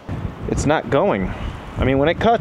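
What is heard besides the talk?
strong wind blowing outdoors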